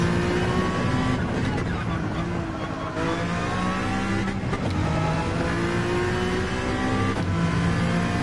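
Race car engine in Gran Turismo, racing at speed across a line, roaring steadily and loud with shifting engine tones throughout, nearby and continuous.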